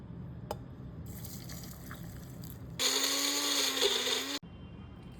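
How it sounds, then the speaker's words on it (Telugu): Mixer grinder running on pali chutney ingredients with cumin and water, a short, loud whirring burst of about a second and a half, heard alone between quieter moments. "అలాగే తగినన్ని వాటర్ వేసుకొని గ్రైండ్ చేసుకుందాం."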